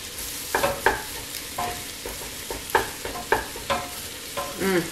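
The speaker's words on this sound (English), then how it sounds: "And then we're just going to stir it into the vegetables." Tomato paste being stirred into sautéing vegetables in a pan for spaghetti sauce, steady sizzle broken by repeated scraping strokes of a spoon at irregular intervals.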